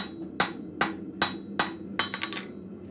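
A blacksmith at a forge hammering hot metal on an anvil to draw it out, with five evenly spaced ringing blows followed by a quicker cluster of lighter taps, close and clear with no talking.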